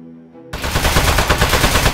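Rapid automatic gunfire bursts out loud and close in the video game Aperture Desk Job, breaking in sharply after a brief quiet musical passage and continuing as a dense rattle.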